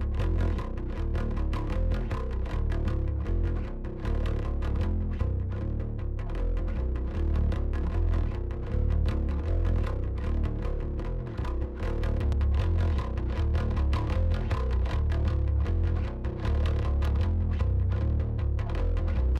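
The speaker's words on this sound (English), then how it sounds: "Let me play you the raw bass here. So this is the DI amp and then a distortion track" A raw, low-tuned bass guitar plays through a DI track blended with a distortion track, without any bus processing, producing a dense, continuous, gritty low-end rumble with steady picked notes throughout.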